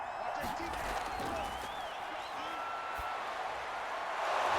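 Stadium crowd in an American football video game, Bears vs Vikings with the home crowd loud: a dense, sustained roar of cheering, swelling near the end, under a commentator's voice.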